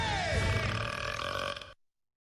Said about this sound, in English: Oh, best burp ever.